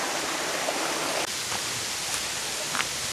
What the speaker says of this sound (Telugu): సో ఇది వాటర్ఫాల్ కదా, దారపల్లి, దారమల్లి, దారమల్లి వాటర్ఫాల్